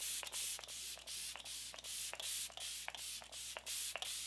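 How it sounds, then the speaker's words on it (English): Rapid, evenly spaced bursts of fine spray mist from a Flower Beauty hydrating setting spray onto a face, about a dozen short pumps in a steady rhythm, close and fairly loud. "let's lock it in with the Flower Beauty Seal the Deal Hydrating Setting Spray"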